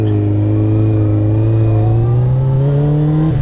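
A motorcycle engine winds up hard and close, its rising drone climbing steadily before a gear shift near the end cuts the pitch abruptly.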